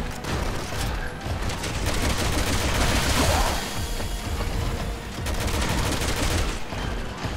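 Bursts of rapid gunfire from the Resident Evil 6 video game, dense and sustained volleys with heavy impacts and no pause for several seconds.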